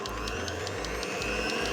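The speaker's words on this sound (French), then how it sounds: "On baisse le batteur, on met le batteur en marche," Electric stand mixer with 16 speeds and a self-rotating bowl whisking egg whites, a steady loud motor whir with a low rhythmic pulsing, close and continuous with no talk.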